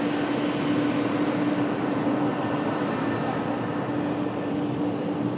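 An ITA Airways Airbus A330 jet comes in to land on runway 1 right, a steady broad roar with a constant engine whine holding loud and close for the whole stretch, no voices over it.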